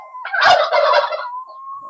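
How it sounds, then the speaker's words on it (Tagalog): A farm turkey gobbles once, a loud close rattling burst lasting about a second, followed by a steady thin tonal hum in the background. "Yung sa pabo naman natin."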